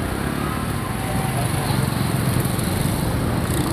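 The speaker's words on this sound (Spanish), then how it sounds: "Ya empiezo el ruido de las motos, aquí hay mucha moto, el ruido de los carros." Motorcycles and cars drone through the streets of Popayán, a dense, continuous buzzing traffic rumble close by with no clear breaks.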